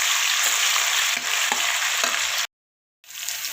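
Garlic ginger paste sizzling steadily in a hot pan for vegetable pulao, with a bright hiss and light stirring clicks, then a brief cut to silence before the frying resumes.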